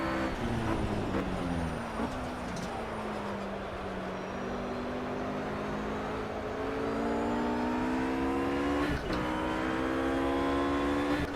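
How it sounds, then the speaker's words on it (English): A RUF GT3 race car in Project Cars laps the Nurburgring, its engine droning steadily and climbing in pitch through the gears with brief dips at each shift, loud and continuous with no talk. "It's a little quiet, it's just engine sounds."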